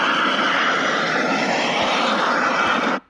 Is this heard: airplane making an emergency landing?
yes